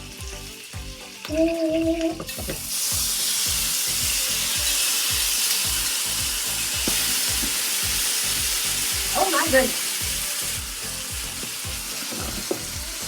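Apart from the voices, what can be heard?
sizzling in a frying pan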